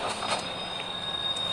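Train moving in the video game DOOM 3, a steady rumbling rail roar with a thin high squeal running through it, continuous and fairly loud with no voices.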